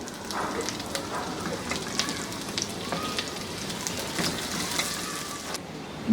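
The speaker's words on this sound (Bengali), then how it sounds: "এই কয়েক সেকেন্ড ভেজেই এর মধ্যে আমি এখন পেঁয়াজগুলা দিয়ে দিব" Onions frying in a pan for an Indonesian egg curry, giving a steady crackling sizzle like rain on a surface, with scattered sharper pops throughout and no talking.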